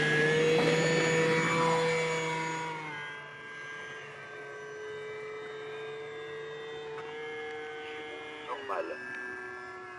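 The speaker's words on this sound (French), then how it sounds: "Donc on va commencer par un décollage relativement classique avec un cran de volet." A Kavan Norden model bush plane takes off from grass with one notch of flap. Its motor gives a steady, high whining drone that slowly drops in pitch and fades somewhat as the plane pulls away.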